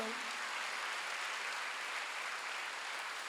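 Steady, dense applause from a large church congregation fills the whole moment, even and sustained without breaks.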